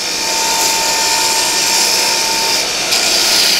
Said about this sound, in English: This grinder is a 2x132, so it's a pretty big grinder with a long belt.